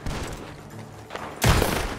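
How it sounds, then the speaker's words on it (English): Gunfire in the Western video game Red Dead Redemption 2, a few faint distant pops followed by a sudden loud burst of shots close by. "The gunshots are coming from that bar."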